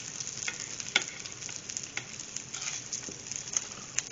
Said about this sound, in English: we're going to start frying our pierogi